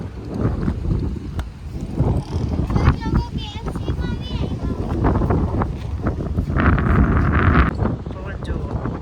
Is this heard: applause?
no